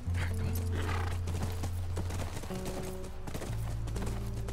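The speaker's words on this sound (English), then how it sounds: "That's our horse." A horse in The Last of Us video game neighs near a ranch while hooves clip-clop steadily, set over a low droning game soundtrack with sustained tones and no voices.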